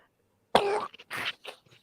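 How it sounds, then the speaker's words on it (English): A person coughs in a short spell of about three harsh, throaty bursts with brief gaps between them, close and fairly loud, with nothing else around it. "Whew, had a coughing spell."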